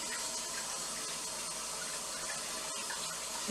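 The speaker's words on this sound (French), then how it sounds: "On recharge en eau." Running water filling a sink as a drain siphon is recharged, a steady close rushing gush with a brief interruption near the end.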